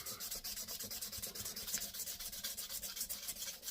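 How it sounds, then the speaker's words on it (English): A cast steel double-bit axe edge is rubbed with 1000 grit sandpaper in quick, even back-and-forth strokes, giving a close, soft, scratchy rasp with no talk. "just take some of the marks and scoring out. And I'll take some 1000 grit."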